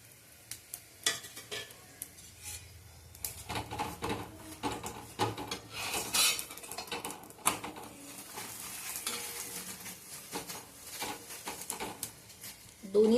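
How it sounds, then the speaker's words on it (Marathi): Oil goes onto a flatbread cooking on a pan, producing a soft sizzle under repeated scraping and tapping of a utensil against the pan, close and intermittent, with occasional faint voice in the background. "आता आपण छान थोडं तेल टाकूया एका साईडने."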